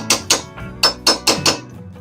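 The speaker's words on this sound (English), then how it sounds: "I don't know if you could hear the hammer sound change there" Hammer blows on a part being driven into place while fitting a gauge set: six sharp, close strikes at an uneven pace, the tone shifting partway as the part seats fully.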